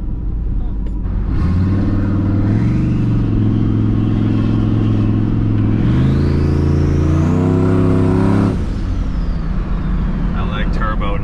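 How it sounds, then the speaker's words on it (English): Turbocharged 5.3L GMC Yukon V8 revving up and down in strong, loud pulls from inside the truck, with a rising turbo whine over the deep engine rumble. "I like turbo noises."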